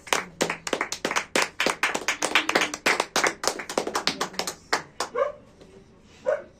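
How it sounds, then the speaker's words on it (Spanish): A church congregation claps hard in quick, loud bursts that trail off near the end, with a dog barking among the claps and a brief voice afterward. "Dale un aplauso fuerte al Señor,"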